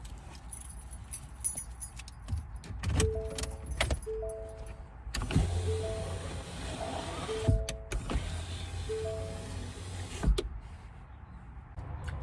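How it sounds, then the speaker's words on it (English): A power sliding rear window on a 2015-2024 Ford F150, wired to a 12-volt test battery, whirs open and closed several times, each motor run a short rising hum ending in a soft clunk, close and alone. "I did a quick mock-up on the tailgate and used a Milwaukee battery for my 12 volt and a test light to see if I'm opening and closing."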